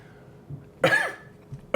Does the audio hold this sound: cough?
yes